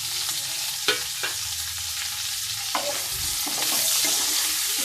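Capsicum, tomato and green chillies fry in a little butter in a wok, a steady sizzle with a few sharp knocks and scrapes of stirring.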